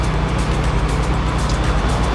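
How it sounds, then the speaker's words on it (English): Dense traffic rushing past on Highway 55, a loud steady roar of cars and engines close by, with no voices. "A lot of traffic,"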